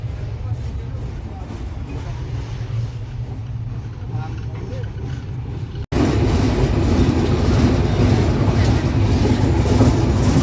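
Inside the Banalata Express, a nonstop train from Dhaka to Rajshahi, a steady rolling rumble fills the carriage and jumps abruptly louder partway through, with voices talking over it.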